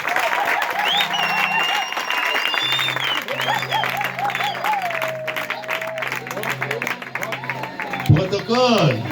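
A church congregation applauding together for the Lord, loud sustained clapping from a crowd with a voice calling out and singing over it, and a brief electronic tone near the end.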